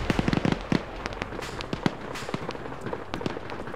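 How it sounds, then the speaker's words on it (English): Gunfire and explosions crackle in a Soviets vs NATO military video game match, a rapid burst of sharp pops and cracks followed by scattered isolated shots and thuds at varying distances. "Llama's gonna follow it up with a grenade as long as he doesn't kill himself with it."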